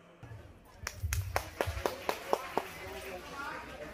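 An audience claps at a jatra folk theatre performance: a short run of about eight sharp, evenly spaced claps, fairly close, over a low background murmur.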